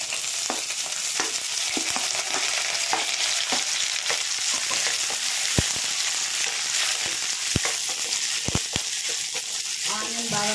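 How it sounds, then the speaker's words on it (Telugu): Onion and green chili fry in hot oil with mustard seeds and cumin in a pan, giving a loud, continuous hissing sizzle up close, punctuated by sharp spatula taps and scrapes against the pan. "ఆనియన్ బాగా ఫ్రై అవ్వాలండి."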